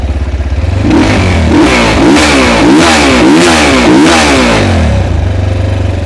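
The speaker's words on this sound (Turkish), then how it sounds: "motorun kendi orijinal egzozunda böyle bir gürleme ve patırtı sesi var" A Mondial RX3i Evo motorcycle engine revs repeatedly through its stock exhaust, a loud, close, rumbling roar that rises and falls in pulses.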